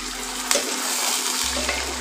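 Water poured into a pan of frying spice mixture with green chillies while cooking ash gourd, giving a steady rushing, bubbling hiss that keeps up through the whole stretch, loud and close.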